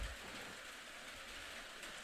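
Steady broadband hiss of rain pelting a roof, continuous and fairly loud with no gaps, sounding like a heavy downpour outdoors at a girls' lacrosse game against ConVal.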